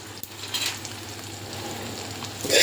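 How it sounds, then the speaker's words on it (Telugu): Sesame seeds dry-roasting in a pan, a steady soft crackle and sizzle with a brief louder stir of the seeds near the end, close and alone. "ఇక్కడ వచ్చేసి నువ్వులు వేయించుకోవాలండి"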